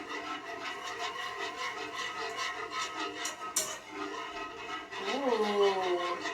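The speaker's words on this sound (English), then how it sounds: "Keep whisking." A whisk scrapes and stirs a thick mixture into milk in a pot for mac and cheese, giving a steady rhythmic rubbing close by, with a brief louder swirl near the end.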